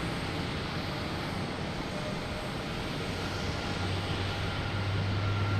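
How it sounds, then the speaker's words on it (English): United Airlines Boeing 737 MAX 9 taking off at night from Boston Logan Airport, a steady distant jet roar holding at an even level with a low engine tone rising toward the end. "taking off. We have United Airlines heading to Denver, 737, MAX 9"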